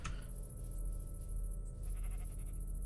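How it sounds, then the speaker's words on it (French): A sheep in modded Minecraft (From The Fog) gives a wavering, repeated bleat over a steady game background, heard clearly with no talking. "Un mouton là."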